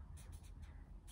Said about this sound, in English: I'm going to go on the side and write it down